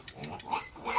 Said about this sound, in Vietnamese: Một lợn bò, 2 lợn trắng, 1 con lợn đen nhé.